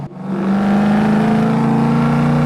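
A 1973 Chevrolet Camaro Z28 with a small-block V8 drives under load, its engine settling into a loud, steady, rumbling drone after a brief low start.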